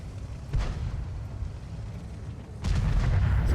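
Distant heavy booms of self-propelled artillery fire from a Hummel in World of Tanks, two deep rumbling blasts with a steady low roar of engine and battle noise between them, no talk.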